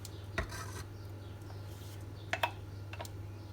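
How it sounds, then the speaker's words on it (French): A spoon stirs cheese soufflé batter with liquid cream in a pan over gentle heat on a glass-ceramic hob, faint scraping strokes against the pan over a low steady hum. "Et là, on remue et on laisse bien tout fondre pour avoir quelque chose d'homogène."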